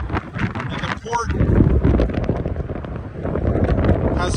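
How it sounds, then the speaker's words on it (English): Strong gusts buffet the microphone at the flooded Port of Louisville on the Ohio River, rough rumbling wind noise rising and falling, while a person talks over it throughout. "it is windy as all wind can be"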